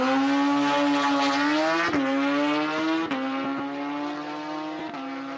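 A Suzuki Hayabusa drag racing motorcycle at a drag strip during an outlaw race weekend howls loud and close, its engine holding a steady high pitch. Sharp bangs break in at each gear shift.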